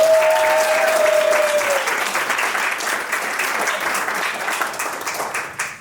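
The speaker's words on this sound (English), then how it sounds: "give Chris a big round of applause" Loud, dense applause from a theater audience at a magic show, steady clapping that starts at full strength with a brief whistle-like tone early on, then thins slightly and tapers toward the end.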